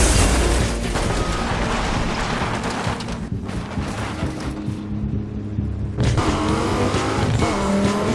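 Cars race in Burnout Paradise on PC, with loud roaring engines, squealing tires and skidding, a brief dip near the middle, then a hard burst of engine noise and screeching.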